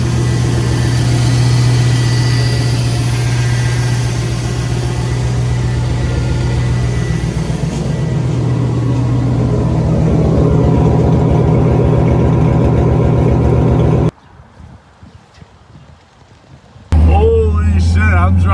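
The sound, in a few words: Chevrolet 5.3 LS engine running in Jeep XJ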